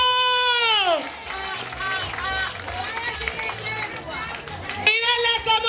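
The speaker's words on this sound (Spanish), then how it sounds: "Ahora vamos a hacer el llamado a la señorita Empatía. ¡Un aplauso!" An indigenous community gathering in Riosucio bursts into clapping and cheering from a close crowd, with raised voices and shouts over the applause before the announcer speaks again near the end.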